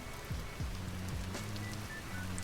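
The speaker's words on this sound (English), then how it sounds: "Is it just permanently raining near this mountain?" Rain falls near a mountain in the game Vintage Story, a steady, soft hiss of drops under low, gliding background tones, with no voices.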